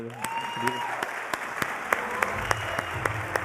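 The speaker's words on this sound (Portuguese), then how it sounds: "salva de palmas pra ele" An audience at a creativity talk at the Moving Up Experience event bursts into applause, dense rapid clapping from a crowd with a voice speaking over it.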